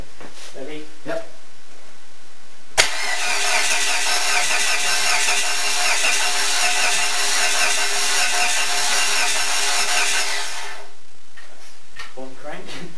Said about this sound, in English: One crank. Need to see if the fuel pump's actually working. Yeah. So the start motor's working.